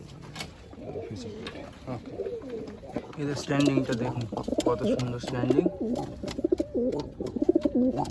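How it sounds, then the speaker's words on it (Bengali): Pigeons coo and rustle steadily in a loft in Garia, fairly close, while someone talks over them almost throughout. "পায়রাগুলো খুব সুন্দর পায়রা"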